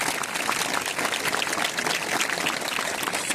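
Audience clapping steadily for visiting members at an institute gathering, a dense, continuous wash of applause from a sizable crowd, fairly loud and without pause.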